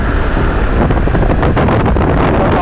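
A 2026 Voge DS900X motorcycle's 95-horsepower engine runs in a steady loud drone, heavily mixed with wind noise buffeting the microphone, no voices.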